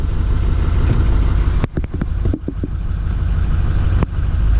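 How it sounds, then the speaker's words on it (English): A 2007 Ford E450 ambulance with a 6.0 diesel holds a high idle, giving a loud, steady drone. A few sharp knocks and clunks break in near the middle, then the engine hum carries on unchanged. "so let's put it in a high idle"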